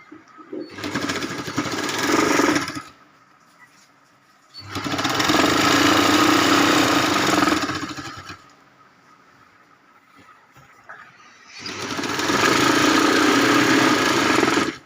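Sewing machine running three separate bursts of stitching, adding a second parallel seam along a quilt border made from old saris; steady loud motor whir in bursts of about two to three seconds with quiet pauses between.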